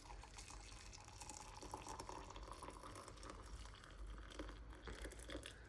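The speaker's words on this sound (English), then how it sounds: "I'm just going to put some water in here." Water is poured into a cup over a homemade tea bag made from tea plant leaves, a steady close splashing trickle lasting several seconds with no speech.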